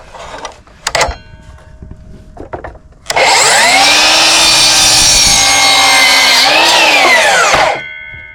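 A power saw cuts through wood pieces for a homemade soil screener, with a few short scraping strokes first, then one loud, steady sustained cut of about five seconds that ends abruptly.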